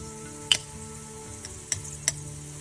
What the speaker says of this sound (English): And give it a bit of a stir.